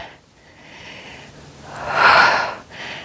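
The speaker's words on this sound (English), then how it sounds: "Nice big inhale and exhale" A deep, audible inhale and exhale during a Pilates flow, the breath rising into a loud airy rush near the end before easing off, close and alone with no talk.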